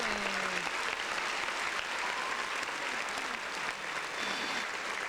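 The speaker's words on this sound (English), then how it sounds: "Round of applause." Clapping and light cheering from a small live studio audience on a podcast set, a steady dense patter that holds evenly for several seconds.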